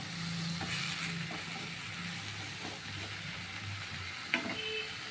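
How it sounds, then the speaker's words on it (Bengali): Pumpkin leaves frying in a pan, a continuous soft sizzle with faint stirring scrapes and one brief louder clink near the end, no speech. "ভালো গন্ধ হয় তাই ভেজে নিচ্ছি একটু সামান্য"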